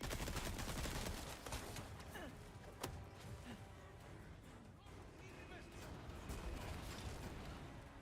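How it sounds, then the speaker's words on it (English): Cannon blasts and gunfire against enemies in Resident Evil 4 Separate Ways, a dense, loud barrage of booms and shots running throughout, with one sharp crack standing out near the middle. "we lower this cannon, and we're gonna go blast all the enemies with the cannon."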